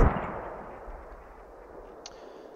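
A single heavy mortar blast in a video game, one loud boom at the start that trails into a long, fading rumble, with no talking.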